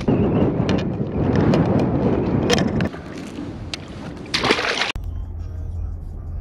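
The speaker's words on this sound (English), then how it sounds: "The wind was just crazy." Strong gusts buffet the microphone outdoors on a cold spring bass-fishing day, a loud rumbling roar for several seconds that then drops to a lower steady hiss.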